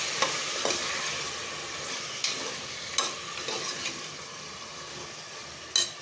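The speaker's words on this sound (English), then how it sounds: "Stir this all very well." Chana and vegetables with a bay leaf fry in a pan for a korma, a steady sizzle with scraping stirs and occasional utensil knocks close by, no talking.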